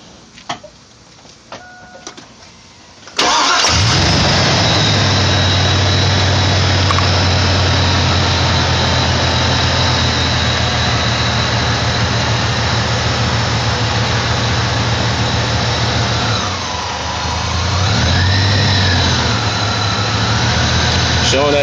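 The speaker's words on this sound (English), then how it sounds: "crank truck up." A truck engine cranks after a battery and wiring job and settles into a loud, steady idle that runs continuously, dipping briefly once, with a voice heard faintly beforehand.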